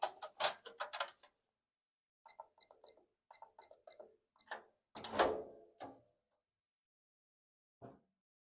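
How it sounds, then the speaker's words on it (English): Genmega ATM vault door opening during machine servicing: a series of close, sharp metallic clicks, latch clacks and handle mechanism sounds in short bursts, with a louder clunk midway and a final faint click after a pause. "Next, we're going to go ahead and open the vault."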